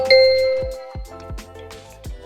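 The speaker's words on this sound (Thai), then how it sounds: "กดกระดิ่งกิ้งๆนะคะ" A bright ringing bell chime sounds loudly near the start and sustains, with several softer metallic dings following in quick succession over about two seconds, no voices.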